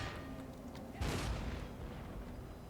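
Demi-cannon artillery firing in the Empire: Total War strategy game, a single muffled boom that swells and fades over a low battlefield rumble.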